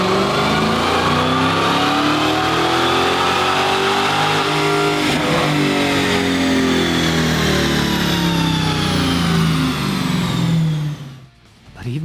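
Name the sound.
Dodge Hellcat engine revving during dyno run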